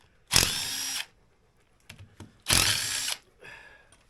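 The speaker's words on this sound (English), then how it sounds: "Twin spindle drill press. That's what I'm running." A twin-spindle drill press runs in two loud bursts of about a second each, with short mechanical clicks and clunks in the gap between them and a fainter rattle at the end.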